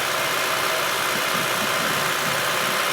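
A 1996 Honda Civic 1.6 engine idles steadily with a constant dense hum and hiss, loud and close, with no talking and no change in pace.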